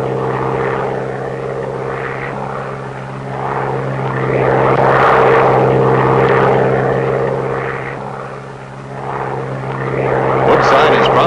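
A light propeller airplane from 1952, flown by a farmer dropping newspaper bundles over rural Prince Edward Island, drones steadily and loudly overhead, its engine note swelling and easing over several seconds with no talk.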